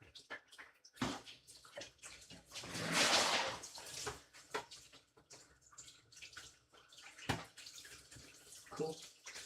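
Warm water is poured in a splashing, sloshing burst that swells and fades, with scattered knocks, clatter and dripping around it in a casual outdoor setting.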